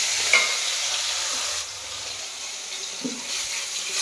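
Fish frying in a hot kadai gives a steady, soft sizzle and hiss for a few seconds, with a faint clink near the end and no voices.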